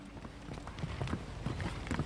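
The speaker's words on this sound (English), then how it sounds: "And of course, his precious horses," Horse hooves of a Spanish conquest-era expedition clip-clop in a busy, irregular patter of several animals, moderately close, over a continuous rumbling background.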